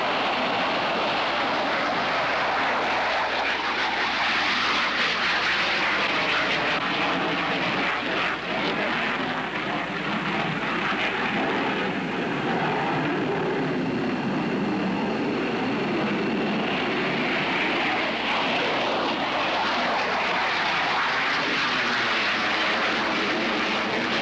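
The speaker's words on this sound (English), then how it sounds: "This is an F-15 Eagle, and it's a magnificent machine" An F-15 Eagle jet fighter flies past with a loud, steady roar that holds for about twenty-four seconds. The broad rushing engine noise swells slightly in the middle and carries no speech.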